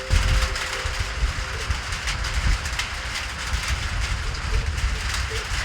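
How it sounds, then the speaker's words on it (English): Wind and rain in the desert: a steady, broadband wash of rain and gusting wind, fairly loud and close throughout, with a low rumble underneath and no clear speech. "Got the wind and the rain."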